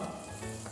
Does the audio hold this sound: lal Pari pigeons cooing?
no